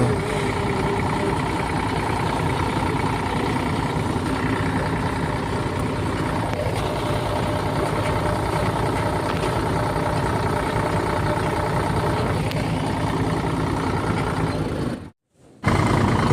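A tractor engine runs beside a heap of harvested groundnuts with a steady, loud, low rumble that continues unbroken before cutting out very briefly near the end.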